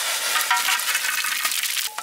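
Cardamom, cloves, cumin, cinnamon and bay leaf sizzle in hot oil for a mughlai mutton curry, a close, steady crackling hiss with a few brighter pops toward the end.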